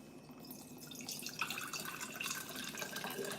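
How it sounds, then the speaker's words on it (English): Coconut water poured into a quart jar makes a faint, continuous trickling and splashing close by, steady from start to finish. "I'm going to add this coconut water to my quart jar."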